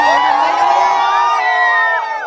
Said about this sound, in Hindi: ओह माय गॉड गाइस इतना ज्यादा भीड़ है भाई साहब